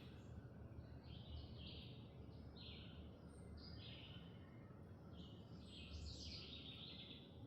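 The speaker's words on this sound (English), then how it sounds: "you can listen to the birds" Birds sing on a peaceful Saturday morning outdoors, with repeated bright chirping phrases and trills rising over a constant low background rumble, moderately distant and quiet.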